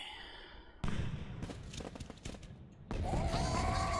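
Fireworks in Super Mario Odyssey, a burst of popping crackles and bangs followed by a bright sustained sparkle, fairly faint overall.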